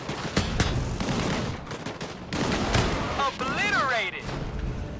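Bursts of gunfire crack and thump through a battle in the game Disintegration, dense volleys mixed with sweeping whooshing sound effects and impacts, with voices talking over the action.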